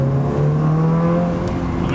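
A Mitsubishi Evo 8 with an aftermarket exhaust drones steadily and close as the throttle is gently rolled on and off, a low engine hum with slight rises in pitch.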